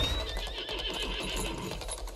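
A horse whinnies in the Lost Ark video game, a loud neigh with clip-clop hooves and busy game background, no voices over it.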